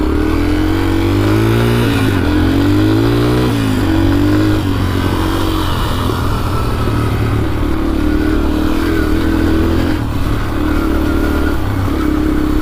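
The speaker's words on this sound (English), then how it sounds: "Usually do a warm-up of the bike on the stand, flipping the throttle" A dirt bike engine warming up on its stand idles loud and close, with a couple of throttle blips raising the revs early on before it settles back to a steady rumble.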